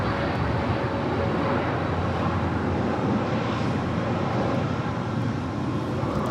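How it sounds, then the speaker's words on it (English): An Aeromexico Boeing 787 Dreamliner airliner at LAX roars continuously at a distance, a broad steady jet rumble mixed with wind noise, without speech. "that was the Aeromexico Flight 647 heading to Mexico City in the Dreamliner"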